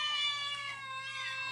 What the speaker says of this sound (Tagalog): Agmimiyaw dagiti pusa